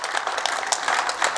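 An audience claps at a live stage show, a steady patter of many hands at moderate loudness with no pause.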